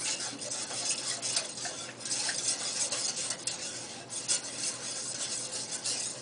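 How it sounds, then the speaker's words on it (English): A spoon stirring butter-based cheese sauce in a pan, continuous scraping and rubbing strokes close up, fairly loud and alone with no talk. "Keep stirring."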